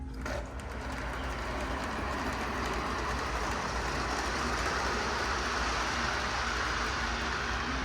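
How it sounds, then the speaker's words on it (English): Continuous rumbling and rattling of a toy model train running steadily in a hobby store, a dense mechanical whir that holds level throughout. "Make the train go."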